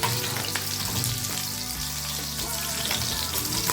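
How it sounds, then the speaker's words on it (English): Beef sizzles steadily in hot oil in a pan, a dense continuous frying hiss with a faint low rumble and occasional stirring scrapes, with no talking. "So introduce our beef. And also fry it."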